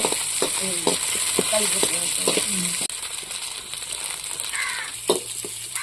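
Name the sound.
tomatoes frying and being stirred in a pan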